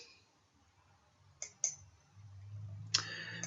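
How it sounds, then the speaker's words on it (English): Sharp computer mouse clicks at a desk during software work, a couple of quick clicks followed by another pair a moment later, crisp and close in an otherwise quiet room. "So we right click it."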